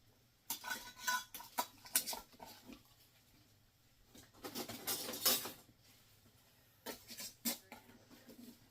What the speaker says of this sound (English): I'm just going to use my hands to put them directly into the canner.